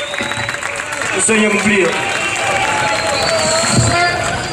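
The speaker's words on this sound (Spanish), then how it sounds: "Un aplauso." A concert crowd at a show in Quilmes, 2017, claps steadily throughout, with someone talking loudly over the sustained applause.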